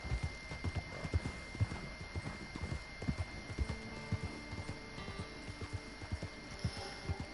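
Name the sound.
horse hooves clip-clopping in video game Red Dead Redemption Online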